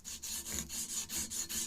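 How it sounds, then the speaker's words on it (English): Sandpaper strips drawn back and forth by hand across a rifle barrel, a close, quiet rasping in a steady rhythm of about four strokes per second, with no talk. "where I'm sanding on the sight or on the bolster too much"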